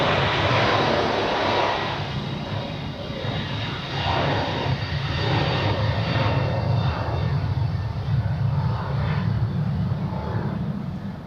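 A Turkish Airlines airliner at Zurich Airport roars loudly and continuously, a thick, sustained engine rush that stays strong throughout.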